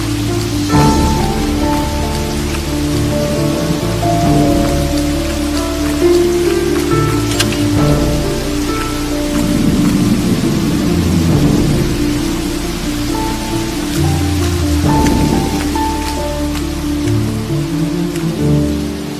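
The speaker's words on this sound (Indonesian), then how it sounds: "Hujan tambah deras, cari yuk." Heavy rain pours down steadily as a dense, loud hiss of drops on surfaces, with low rumbling thunder rolling underneath throughout, no voices.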